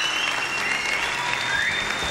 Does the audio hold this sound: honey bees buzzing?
no